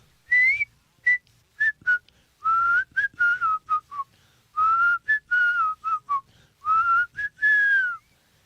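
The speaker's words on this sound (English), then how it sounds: "you might have to work on the whistle a little bit" A person whistles a melody up close and clearly, in short and longer phrased notes with brief pauses between the phrases, heard alone.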